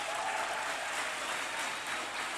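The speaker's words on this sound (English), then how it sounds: "Let's applaud for that, for sure." A large audience applauds at a university convocation ceremony in Guelph-Humber, the clapping steady, dense and loud throughout with no voices over it.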